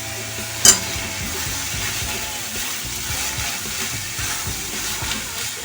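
Vegetables with grated ginger and green chili stir-fried in a pan for a Bengali vegetable chop, giving a steady close sizzle with scraping stirs and one sharp clink near the start.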